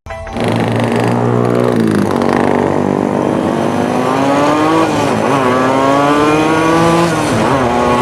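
A two-stroke motorcycle revs hard at full throttle, loud and close, its high whining engine note rising and falling continuously with no break.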